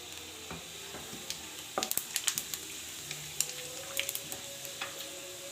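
Whole spices (cumin, cinnamon, cloves, green cardamom and bay leaf) frying in hot oil for a dhaba-style dal chana, giving a soft steady sizzle with light stirring clicks and scrapes close by.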